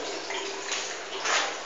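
Water from a toilet bowl being cleaned of hardened limescale with spirits of salts is poured down a sink, a steady close splashing rush that swells briefly near the end, with no voices.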